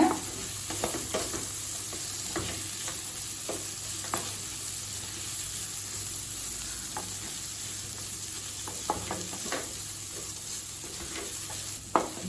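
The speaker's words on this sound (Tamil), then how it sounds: "ஒரு நிமிஷம் வரைக்கும் நல்லா வதக்கிக்கலாங்க." Steady sizzling of beans and capsicum sautéing in a pan for veg kothu chapathi, with scattered clinks and scrapes of a spoon stirring, close and continuous with no voices.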